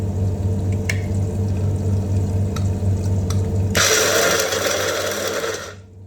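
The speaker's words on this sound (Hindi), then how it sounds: "तो इसको हमें ना अभी ग्राइंड करना है" Groundnuts whirring in a kitchen mixer grinder, a steady broadband roar that starts abruptly partway through and runs for about two seconds before cutting off, preceded by low hum and a few small clicks.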